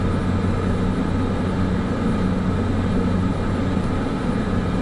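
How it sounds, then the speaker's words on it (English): A Cessna 208 single-engine turboprop in Microsoft Flight Simulator 2024 gives a steady, loud, even engine drone that runs without a break from start to finish, with nobody talking over it. "So now flying a Cessna 208 is a bit of a step down in size"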